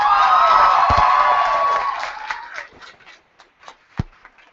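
A youth poetry slam audience at Louder than a Bomb Great Plains 2014 erupts in loud cheering and whooping, which fades over about two seconds into a few scattered, sharp claps and stray shouts.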